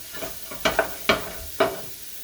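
Vegetables for cheeseburger soup sautéing in a pot, a soft low sizzle broken by a few sharp spoon scrapes and stirs, close and alone with no talk.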